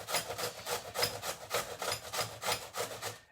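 Potato rubbed rapidly against a grater for homemade hash browns, about a dozen even rasping strokes in quick rhythm, close and loud, with no voices.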